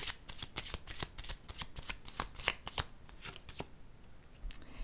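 Tarot cards being shuffled and laid down, a quiet, close run of quick crisp riffles and flicks, then a few softer slaps as cards are placed, with no talking.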